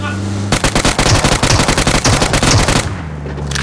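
Rapid automatic gunfire in PUBG Mobile hammers out in a loud, close, evenly spaced burst lasting a few seconds before cutting off, with a voice faintly present beneath it.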